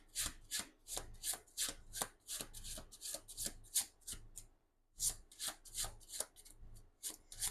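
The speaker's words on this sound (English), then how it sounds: "when I was like shuffling the cards" Tarot cards being shuffled by hand, a quick run of crisp riffling bursts in two bouts separated by a short pause, close and clear with no talking.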